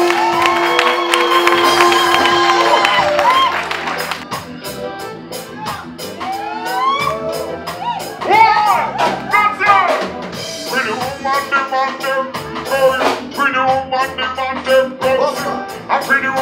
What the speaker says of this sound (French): je veux un tonnerre d'applaudissements pour le groupe